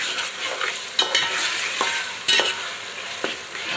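Ginger garlic paste fries in a pot for a white chicken pulao, giving a steady close sizzle broken by several sharp scraping strokes as it is stirred.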